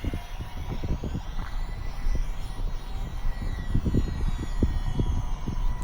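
ParkZone Ultra Micro Spitfire Mk IX RC plane making a slow pass in crosswind. Its faint, thin motor whine sits over steady wind rumble outdoors.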